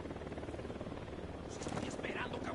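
A helicopter in the Ghost Recon Wildlands video game gives off a loud, steady rotor thrum that fills the whole stretch, with game voices briefly cutting in over it toward the end.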